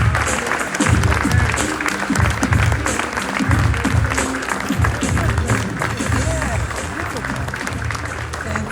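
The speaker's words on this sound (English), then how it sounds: "So will y'all join me with a real round of applause and stand to your feet" A crowd in Birmingham gives Xernona Clayton a standing ovation, sustained loud clapping with cheers, shuffling and murmured voices mixed in throughout.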